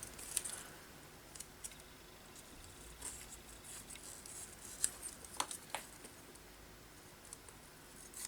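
Scissors snip paper chilies out of a sheet for a collage, faint irregular crisp clicks and crinkles of paper close by in a quiet room.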